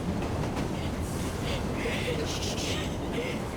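A train rumbling along in Assassin's Creed Syndicate, a steady rolling clatter of wheels on rails with occasional higher squeals, under quiet voices.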